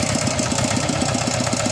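A tractor engine runs close by on a rough rural track, a steady low chugging with rapid regular knocking pulses and no voices over it.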